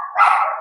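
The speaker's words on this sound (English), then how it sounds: "sorry guys, that's my dog." A dog gives one short bark, close and fairly loud, trailing into a brief whine-like tail.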